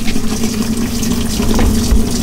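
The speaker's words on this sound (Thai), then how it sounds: "นี่น้ำไหลเข้า" Water rushes steadily into an LG washing machine with a continuous hissing flow and a low hum underneath, close and loud, with no talking.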